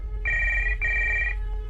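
An intercom telephone in a hotel room rings as a horror-story sound effect, giving two clean, steady electronic bursts in quick succession and then stopping.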